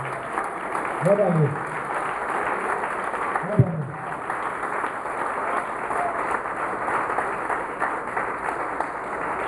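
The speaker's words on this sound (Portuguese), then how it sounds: "Aplauda mesmo ao Senhor." A church congregation applauds in a long, steady wash of clapping that fills the room, with a voice speaking briefly over it.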